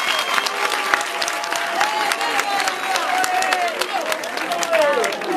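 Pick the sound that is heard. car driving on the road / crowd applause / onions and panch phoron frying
crowd applause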